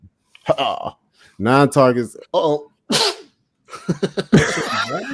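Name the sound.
sneeze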